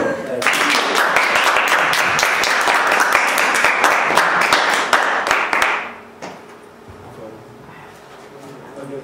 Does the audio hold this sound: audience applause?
yes